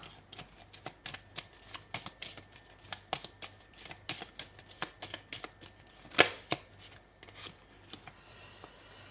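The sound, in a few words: shuffling and drawing tarot cards (major arcana)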